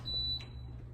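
A kitchen timer or oven beeps to signal that chicken for shrimp and spinach enchiladas has finished cooking: a steady, piercing high electronic tone that holds for a moment, then fades to a faint thread over a low kitchen hum.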